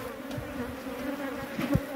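Wild bees swarm at a honey-filled nest in the rock of a cliff face, making a close, steady droning buzz with a few faint knocks underneath.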